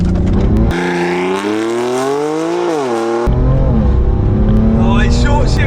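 A BMW M4 Competition in sport mode with traction control off launches hard and accelerates, its engine climbing loud and close, then bogging and dipping before an early upshift, with a voice exclaiming over the roar.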